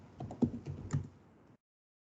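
Quick bursts of typing on a computer keyboard while writing Python code, a close, dense run of clicking keystrokes for about a second and a half before falling silent.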